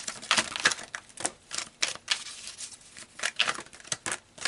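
Tarot cards shuffled by hand, a close, soft patter of riffling and slapping card edges in uneven bursts with brief pauses.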